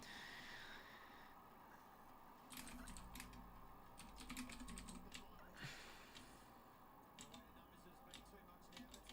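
Fast, irregular clicking of computer keyboard keys during a live watch-along of an AFL match between Sydney Swans and Carlton, fairly close, with bursts of typing in the second half.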